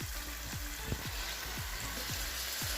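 Chicken sizzles steadily in a pan after tomatoes and garlic go in for degi chicken biryani, a dense close crackle with repeated low bubbling pops and no talk.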